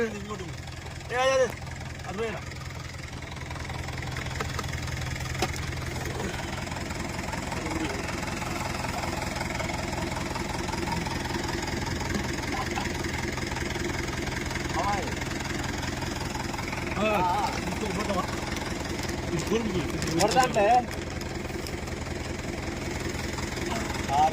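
A motor runs steadily at an even, low hum for the whole stretch while people talk nearby over it, with a few sharp knocks and clatters along the way.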